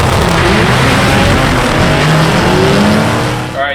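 Turbocharged Honda Civic on an aggressive kill tune making over 500 wheel horsepower, engine roaring loud and continuous through a hard pull, rising in pitch before easing off at the end.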